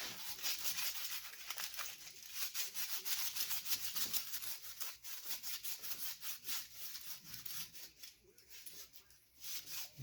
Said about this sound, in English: we're just going to do the old tin foil scrub of some of the chrome here